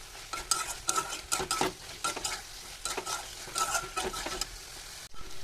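Fried potatoes and drumstick pieces are stirred into a mustard spice paste in a pan, with bursts of scraping and clattering from the spoon over a continuous frying sizzle.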